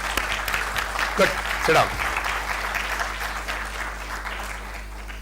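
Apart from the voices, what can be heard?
conference audience applause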